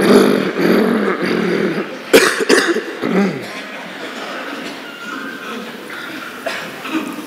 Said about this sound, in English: and it's good to clear your throat now.